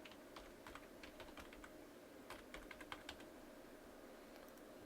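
Details being typed on a computer keyboard while setting up Zoom, with quiet, close, irregular key taps in short bursts and brief pauses between.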